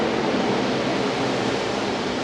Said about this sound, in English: sorry about the noise, wait till the truck goes by